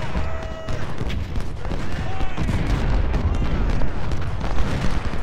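Cannon artillery fire in the Civil War video game Ultimate General: Civil War, with dense rumbling booms and crackling blasts rolling continuously and loudly throughout.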